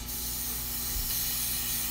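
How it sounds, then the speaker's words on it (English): A steady, continuous hiss of spray paint from a can held too close, loud and close-up, lasting throughout without pause or talking. "if you spray it like this"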